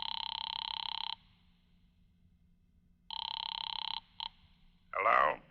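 A telephone rings in two long bursts with a short chirp after, heard from a phone booth while a call goes through, fairly loud over a low hum, followed by a brief voice.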